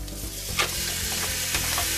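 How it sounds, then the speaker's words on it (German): Carrots and grilled vegetables frying in hot melted butter, a steady close sizzle with stirring clatter and occasional louder crackles throughout, no voices. "das brutzeln wir jetzt erstmal schön an"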